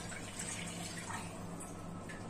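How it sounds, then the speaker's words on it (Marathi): Water pours into a pot of village-style Indian chicken soup, a soft, continuous splashing stream heard close but faint, with no talking. "आता ह्याच्यामध्ये मी पाणी टाकते."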